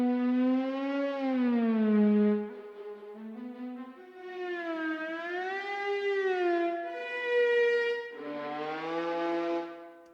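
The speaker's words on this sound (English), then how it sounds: "so if I play a violin, there's my violin over there on the iPad" A violin voice from an iPad synth app, triggered over MIDI, plays a sustained, sliding melody of long bowed-like notes with swooping pitch bends, fairly loud and alone.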